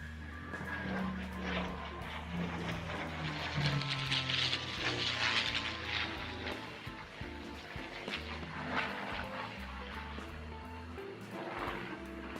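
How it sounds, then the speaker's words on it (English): A Supermarine Spitfire flies a display, its piston engine droning and swelling in loudness as it passes, heard at a distance as a fairly faint, fluctuating growl. "We know all about the Spitfire. I think it will speak for itself. The sound of the Spitfire is the sound of freedom."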